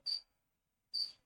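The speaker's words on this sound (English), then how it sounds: "Do I hear crickets?" Two short, bright cricket chirps, about a second apart, each a quick buzzy trill standing alone against silence.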